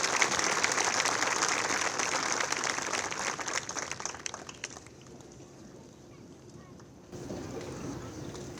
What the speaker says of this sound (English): if we could give her a big round of applause for all her years of service to the Board of Education